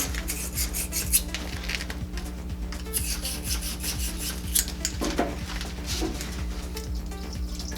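A small brush scrubs the threads of an Iwata LPH 80 spray gun during cleaning, heard as a steady, close rasping rub with quick strokes over a constant low hum, and no talking.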